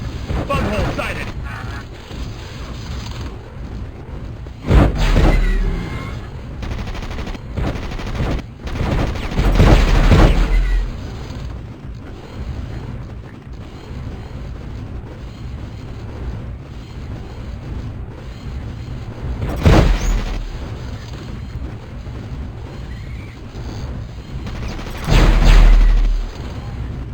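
Gunfire and explosions in the Starship Troopers: Terran Ascendancy game, a continuous crackle of shooting punctuated by several loud booming blasts at intervals, with voices talking at times over the battle.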